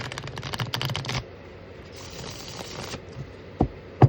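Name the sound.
shuffling tarot cards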